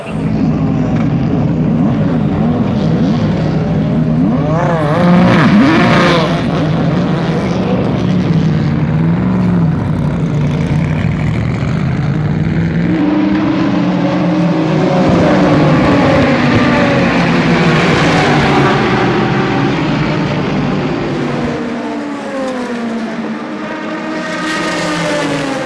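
A field of race cars in the GT Daytona and other classes roars off at the start of a race, a loud dense wall of engine noise with overlapping rising and falling revs as cars pass near and fade away.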